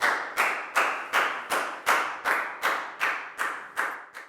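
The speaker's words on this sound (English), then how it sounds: "High five and a big round of applause for Lacau" A Year 4 maths class claps for a student in unison, about a dozen evenly spaced, sharp group claps in a steady rhythm, each with a short roomy decay, close and with no talking.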